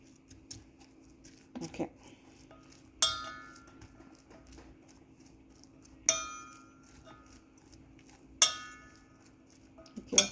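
Canned tuna is mixed with onion in a bowl, heard as three bright, ringing spoon clinks against the bowl spaced a few seconds apart, with quieter scraping and soft talk between them.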